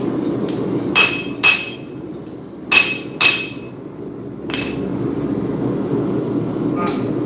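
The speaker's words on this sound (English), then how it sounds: "The hammering's nearly done." Sharp metallic hammer strikes ringing on steel, several blows in uneven clusters with pauses, close by over a steady low background hum.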